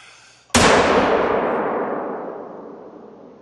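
A single rifle shot fired at a reindeer in the hunting game theHunter, in the Medved Taiga reserve, with a sudden loud crack followed by a long, slowly fading rumble.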